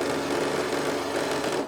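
A sewing machine stitches a quarter-inch strip at a steady pace, giving a continuous, close, fast mechanical whir with a fine even pulse and no pauses.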